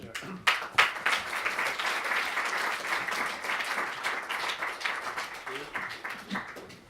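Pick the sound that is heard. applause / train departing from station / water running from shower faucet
applause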